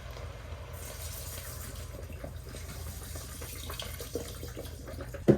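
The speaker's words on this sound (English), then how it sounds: "So 1 whole thing of vegetable broth and then a cup of water." Liquid pours steadily into a pot of lentils and rice, first a whole container of vegetable broth and then a cup of water, making a continuous close splashing stream with a faint clatter near the end.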